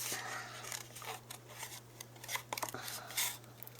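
Scissors snipping paper for a small handmade prayer journal, fussy cutting around a shape: a run of light, close, irregular snips and rustles over a faint steady hum, with no talking.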